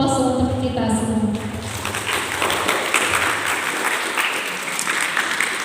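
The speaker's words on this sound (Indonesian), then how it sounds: "Aplaus untuk kita semua." A speaker's voice gives way to a warm wave of audience applause in a school hall at an Islamic senior high school event, the clapping steady and sustained for several seconds.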